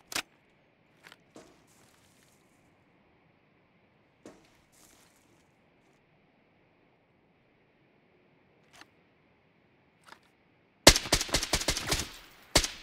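Gunshots in Arena Breakout: a few faint isolated cracks spaced out over quiet, then a sudden loud rapid burst of automatic fire near the end.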